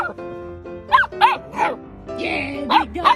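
A big dog barks in several short, loud bursts, with people talking over and between the barks nearby.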